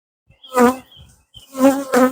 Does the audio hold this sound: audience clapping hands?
no